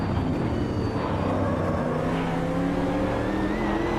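A race car in the Automobilista 2 sim, driven at a Melbourne circuit, holds a steady, loud engine drone while its pitch shifts during hard late braking into a corner. No one speaks.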